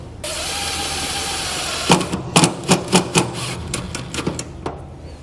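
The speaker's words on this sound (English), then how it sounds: "I'm going to take a couple self-tappers and bolt it right into place." A self-tapping screw is driven into a trailer to mount an Optronics LED mini clearance light, giving a steady whir and then a run of sharp, close clicking and ratcheting bursts in an uneven rhythm.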